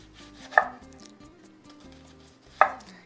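A knife chops through an onion on a cutting board for blue corn New Mexico enchiladas, two crisp, sharp chops about two seconds apart, close and clear over a faint low background hum.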